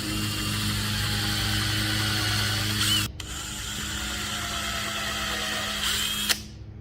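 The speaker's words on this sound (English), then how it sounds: "you always drill pilot holes when you're going into resin" A power drill boring pilot holes into a resin baby keepsake, two steady whirring runs of about three seconds each with a short pause between, close and fairly loud with no talking.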